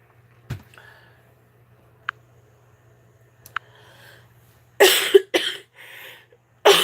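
A few harsh, breathy coughs burst out close to the microphone near the end, after a quiet stretch with small clicks.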